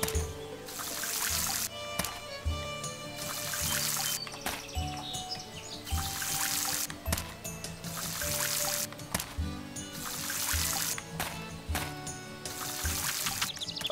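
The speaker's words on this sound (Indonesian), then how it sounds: "Oke, kita siram aja semuanya ya." Watering crops with a watering can in the farming video game Story of Seasons: Pioneers of Olive Town, a repeated pouring and trickling splash in short bursts over chirping birdsong and light game music.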